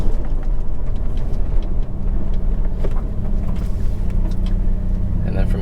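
A 2019 Subaru WRX fitted with a Remark Stealth axleback exhaust drives in manual mode, its engine and exhaust holding a loud, steady drone from inside the cabin with slight rises in pitch; a person talks over it.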